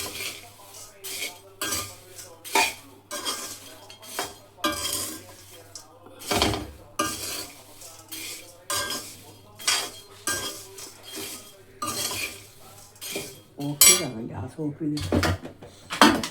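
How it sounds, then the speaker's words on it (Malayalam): Metal utensils scrape and clink against a pan in an irregular rhythm as a mixture of fried flattened rice (aval) and salt is stirred, close and fairly busy. "അല്പം ഉപ്പും കൂടെ ഇനി എല്ലാം കൂടെ ഒന്ന് ചേർത്ത് മിക്സ് ചെയ്യാം."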